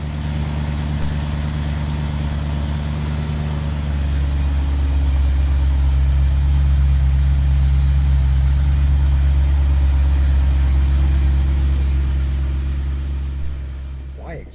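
A BMW E92 M3 engine idles steadily close by, a deep even rumble that swells slightly after the first few seconds and holds to the end, with no talk over it.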